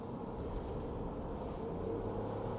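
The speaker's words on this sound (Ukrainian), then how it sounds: "Трициліндровий двигун після 4000 обертів прикольно співає." Mini Cooper 5D three-cylinder engine revving above 4000 rpm, heard as a steady, loud, throaty drone inside the moving car on a road, continuous throughout with no speech.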